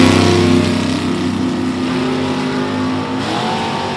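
A drag race car with a 582 cubic inch big block Chevrolet engine drones loud and close at a drag strip, a harsh held engine note that shifts pitch near the end, with no talk.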